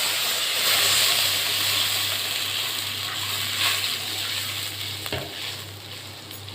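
Broth poured into a hot frying pan of oil and black cumin seed tempering for a bhola fish curry: steady loud sizzle and hiss with a faint low hum, fading slightly toward the end, no talk.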